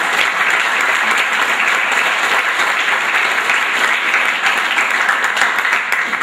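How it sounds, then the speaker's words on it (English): Audience applause at a high school senior sports banquet, honouring the Northeastern Booster Club for Cougar athletics: dense, sustained clapping from a large crowd, steady and fairly loud throughout with no pauses. "Let's give them a round of applause."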